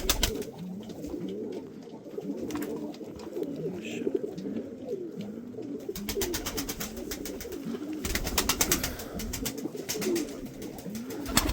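Pigeons from Mardin coo softly in a loft, with repeated low, rolling calls overlapping one another, fairly close, alongside scattered rustling and flapping.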